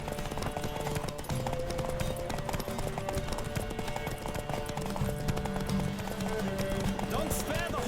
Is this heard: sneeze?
no